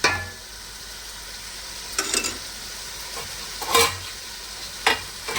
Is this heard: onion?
yes